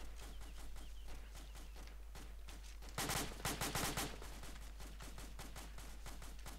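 Gunfire in the military shooter Arma: a short cluster of rapid, loud shots bursts out for about a second in the middle, over a steady background din of battle noise.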